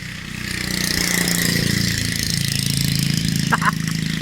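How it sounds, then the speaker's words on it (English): A mini bike engine drones steadily as it rides past outdoors, holding a loud, even buzz throughout, with a brief higher chirp near the end. "Oh, dude, here comes this mini bike"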